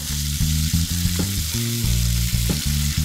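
Sausage and onion sizzle in a pan with a loud, continuous hiss and crackle, and a low humming tone runs underneath, heard close with no talk.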